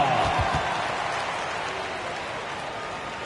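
Simulated arena crowd applause in an NBA 2K basketball game, Wizards at Sixers, a steady broadband wash of clapping and cheering that fades slightly, with a brief trace of announcer voice at the start.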